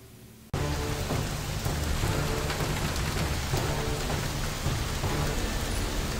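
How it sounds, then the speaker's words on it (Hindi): Torrential evening rain in Mumbai, a dense, loud, steady downpour that starts abruptly and continues without a break, with no talking. "मुंबई में मंगलवार शाम से हो रही मूसलाधार बारिश"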